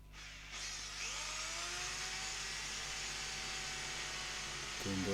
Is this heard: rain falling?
no